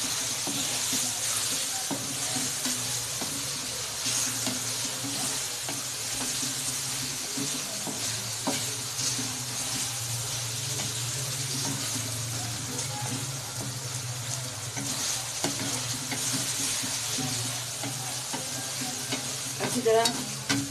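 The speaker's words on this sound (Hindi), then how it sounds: "चिकन को अच्छी तरह फ्राई कर लेंगे।" Chicken pieces fry with a steady sizzle in a pan while being stirred, with scraping and clinking spoon sounds over a continuous hiss that persists throughout.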